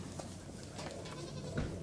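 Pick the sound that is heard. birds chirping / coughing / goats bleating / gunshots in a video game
goats bleating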